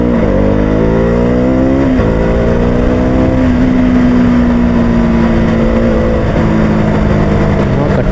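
A BS3 KTM Duke 200 motorcycle engine revs loud and steady while riding, pitch rising and falling with throttle changes and gear shifts, near and continuous, with wind noise and no talk.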